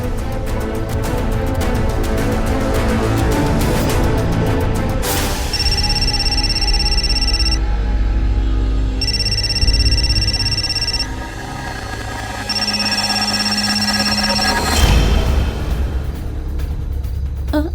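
A phone rings in bursts of a steady electronic tone, three rings with gaps, over a continuous background rumble and music that drops away at the end.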